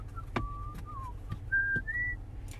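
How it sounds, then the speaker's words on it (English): A person whistles the tune The Yellow Rose of Texas, several sustained and sliding melodic notes alone at close range, with faint room noise behind. "You know what song I'm whistling?"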